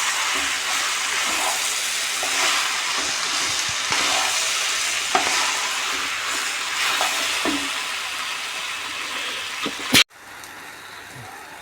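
Jackfruit softening in hot ghee in a pan, a continuous bright sizzle with occasional spoon scrapes, cut off by a sharp knock after which the sizzle drops lower.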